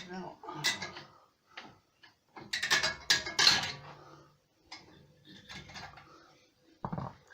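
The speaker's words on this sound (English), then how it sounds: "That comes off with the aid of a screwdriver." A screwdriver pries the spring clip off the front brake caliper of a 2006 VW Golf 2.0 TDI, giving scattered sharp metallic clicks and scrapes amid workshop handling noise, with someone speaking in between.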